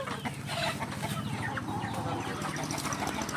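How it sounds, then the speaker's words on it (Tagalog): Chickens cluck and chatter steadily while being fed in a busy, noisy rural yard, with a voice briefly audible among the constant flock sounds. "nagpapakain na siya ng manok"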